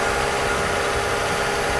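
A Mercedes R129 300SL engine runs steadily at a slightly raised idle after repair of a faulty fuel distributor, a constant even hum with no voices.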